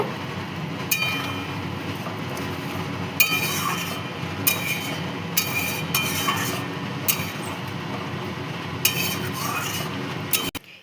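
Ridge gourd curry with lentil fritters being stirred as garam masala and ghee are mixed in, with steady cooking sizzle and repeated metal clinks of a spoon against the pan, no talking.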